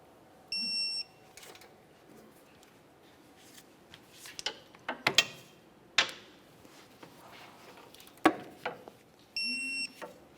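Control arm to subframe bolts being torqued on a 2005-2010 Chevrolet Cobalt: quiet metallic clicks, ratchet taps and sharp clanks spread through the middle, with a short electronic beep near the start and again near the end.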